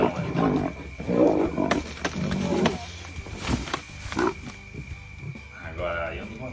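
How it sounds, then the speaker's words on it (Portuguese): A lion roars near a railway track in deep, rumbling bursts, mixed with excited shouting voices and some snorting animal noises. "Olha, olha, o leão aí."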